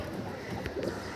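Pigeons coo softly at a loft, low throaty calls overlapping in a continuous murmur against steady background noise, with no talk.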